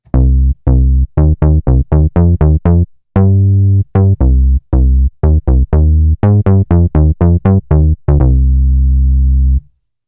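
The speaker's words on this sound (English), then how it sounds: "I'm currently using the Monarch, which is a Mini Moog Model D type synthesizer, and I like it for its super warm and vintage sound" Monarch synthesizer, a Mini Moog Model D type, playing a warm vintage bass line of short punchy repeated notes in a steady rhythm, ending on one longer held note, loud and alone.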